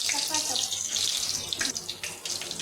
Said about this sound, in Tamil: அதில் தண்ணி போடுவோம்.